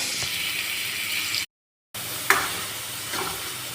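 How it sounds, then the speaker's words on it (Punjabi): Onions sizzling in a pan on a gas stove over low flame for a milk-and-rice sabji with green chillies, a steady close frying hiss broken by a brief gap and a scrape of stirring. "ਹੁਣ ਆਪਾਂ ਪਿਆਜ਼ ਨੂੰ ਚੰਗੇ ਤਰੀਕੇ ਨਾਲ ਭੁੰਨ ਲਾਂਗੇ ਸਿਮ ਗੈਸ ਤੇ"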